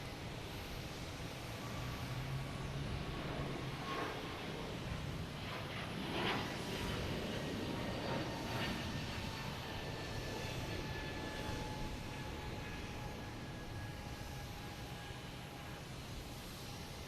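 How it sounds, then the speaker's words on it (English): A Delta Airbus A220 jet taking off at Boston Logan Airport, a broad distant engine roar that holds steady and swells slightly, heard alone from the spotting area. "Next taking off is Delta and A220, heading to Austin,"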